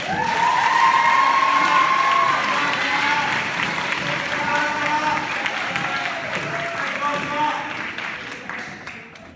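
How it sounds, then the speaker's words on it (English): At a school sports banquet, a crowd gives warm applause for student award recipients, loud and sustained from the start with cheers and shouts mixed in, slowly tapering toward the end. "Please give a warm round of applause to this year's recipients of the Student Coach Award"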